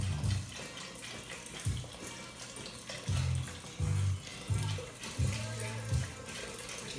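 Vegetable broth pours from a 4-cup measure into a pressure-cooker pot for red beans, a close, full liquid splash coming in several bursts over a low rumbling background.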